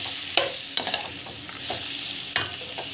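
Tomatoes sautéing with salt in a hot pan, a steady broadband sizzle with a few sharp scrapes of a stirring spoon spaced through it, close and continuous.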